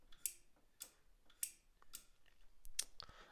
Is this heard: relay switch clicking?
yes